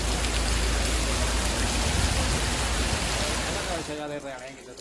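Heavy rain pours during severe flooding in Valencia, Spain, as a dense, steady hiss that fills most of the moment before breaking off near the end, where a voice begins.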